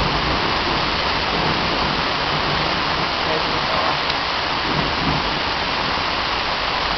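Heavy thunderstorm rain pours steadily and loudly, a dense unbroken hiss that holds at full intensity throughout with no pauses.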